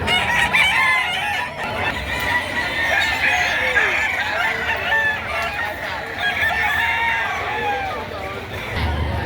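Roosters crow and chickens cluck loudly at a busy chicken market, with the birds calling over one another under steady conversation between people nearby.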